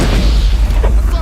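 A gun firing in a stealth video game: a heavy, booming shot with a deep low rumble that fills the short moment, loud and close.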